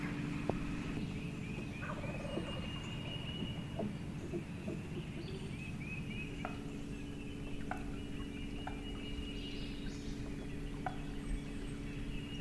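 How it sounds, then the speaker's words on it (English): A wild turkey gobbles several times far off during spring turkey season, faint and distant over a steady low outdoor hum, with no voices nearby. "Heard one gobble up that way, pretty good ways off."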